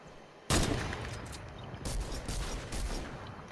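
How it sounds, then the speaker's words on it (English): Gunfire from a hunting rifle in a video game: a sharp loud shot at the start followed by a second burst of shots and lingering reports and echoes, loud and up close. "He's a hunting rifle."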